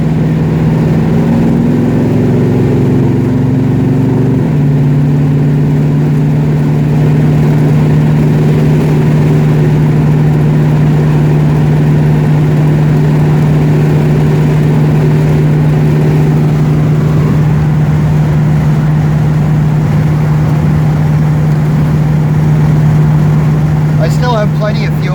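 A 1969 Dodge Charger engine runs steadily during a test drive, a loud, continuous low drone with a pitch shift after the first few seconds as it settles into a constant cruise, heard close throughout.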